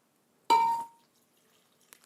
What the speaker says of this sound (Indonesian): Kemudian kasih air sekitar setengah gelas.